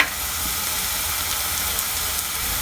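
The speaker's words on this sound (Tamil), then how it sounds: "கனவாக்கறிக்கு வெங்காயம் நல்லா பொரியணும்." Onions frying hard in oil for a cuttlefish curry give a loud, dense, continuous sizzle and hiss, close and unbroken, with no talking over it.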